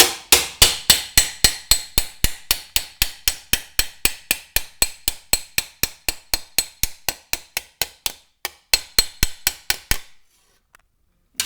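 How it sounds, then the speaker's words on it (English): Rapid hammer blows planishing a welded steel panel for a Wolseley Hornet Swallow special, about forty sharp ringing metallic taps in a fast steady rhythm, close and loud, stopping abruptly near the end with a couple of faint stray knocks. "we've planished across that, crushed most of the welding"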